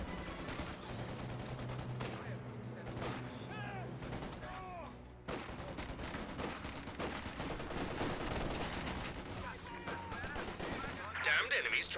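MG34 machine gun fire in Company of Heroes 2 rattles in bursts across a battle soundscape, with scattered gunshots and explosions mixed in and game audio throughout.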